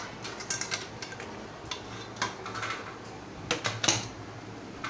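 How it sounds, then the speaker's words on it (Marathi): Metal clinks and scrapes of a pot of cooked rice being handled and lifted out of a pressure cooker, a few sharp knocks against metal over a low steady background hum. "भांडं काढत आहे"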